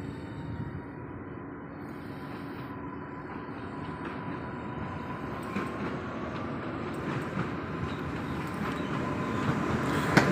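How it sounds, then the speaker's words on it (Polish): A Koleje Mazowieckie passenger train pulls into Warszawa Wschodnia station, a steady distant rumble of wheels with a faint whine, growing gradually louder as it approaches. "Wjeżdża pociąg osobowy Kolei Mazowieckich, relacji Skierniewice"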